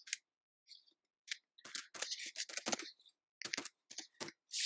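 Computer keyboard being typed on while entering watermark text in iMovie: a quick series of close, crisp key clicks with short pauses between them, and no voices.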